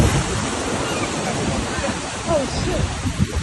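Large waves crash and churn near a beach during a flash flood, with heavy roaring surf and wind buffeting the microphone. Voices are heard faintly under the water noise.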